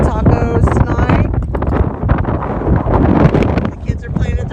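Strong gusts batter the microphone with loud, continuous low rumbling and buffeting on a windy outdoor Sunday by the water, and people talk faintly underneath.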